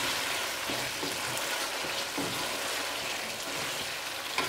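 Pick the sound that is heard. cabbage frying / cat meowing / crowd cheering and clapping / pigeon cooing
cabbage frying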